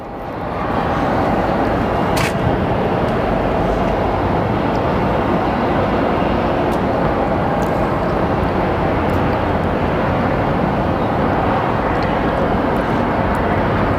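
An airliner landing at Phoenix Sky Harbor International Airport, a loud, steady jet engine roar that swells quickly and holds as a broad continuous rumble, heard outdoors from nearby.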